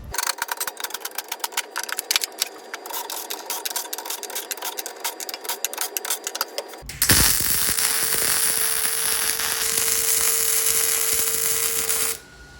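Welding on a steel finger brake die for a heavy duty press brake, starting with rapid crackling, popping arc bursts, then turning into a loud continuous buzzing hiss that holds steady for several seconds before stopping.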